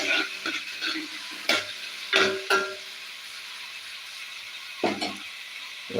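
Onions frying in a pan keep up a low, steady sizzle, broken by several loud, close scrapes and knocks of stirring spaced unevenly across the moment, with no one speaking.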